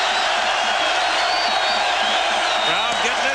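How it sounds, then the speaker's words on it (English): A college football stadium crowd at a 1989 Michigan at Illinois game roars in a steady, dense wash of cheering and whoops, with a commentator talking over it. "Crowd getting into it."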